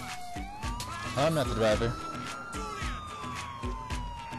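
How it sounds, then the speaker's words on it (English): A police car siren in GTA IV wails in a long sweeping tone over engine noise, while players talk over it. "Turn the fucking sirens off!"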